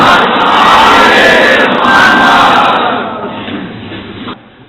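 A large gathered audience recites salawat in unison, a loud, roaring chorus of voices that swells and then fades away over a few seconds.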